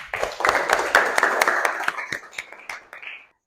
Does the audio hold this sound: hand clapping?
yes